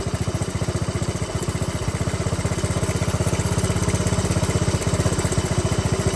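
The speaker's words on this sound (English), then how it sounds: "Still idling good." A dirt bike engine idles steadily with a fast, even putter, loud and close, running continuously without revving.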